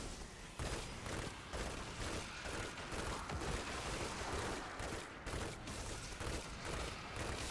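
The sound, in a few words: engrams exploding in a cave in the video game Destiny 2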